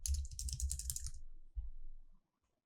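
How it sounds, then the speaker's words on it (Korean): Keys clatter in a quick cluster on a computer keyboard, a shortcut pressed during Live2D rigging work, then a second short burst before the sound stops; close and fairly quiet, with no talk. "컨트롤 R 눌러서"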